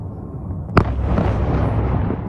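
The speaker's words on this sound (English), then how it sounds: "Devastating explosions across Ukraine's major cities." A single sharp blast from explosions in a Ukrainian city, heard in news footage, followed by a sustained rumbling roar and crackling over a low background drone.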